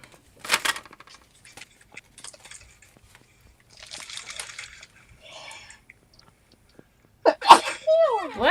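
A single sharp sneeze bursts out early during a casual online morning coffee chat, followed by scattered small sounds, brief voices and a louder burst of noise near the end.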